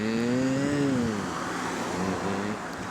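A bus engine with a small exhaust leak on a London bus route idles and pulls with a steady low drone, a rising and falling tonal hum audible near and fairly loud throughout, with no talk.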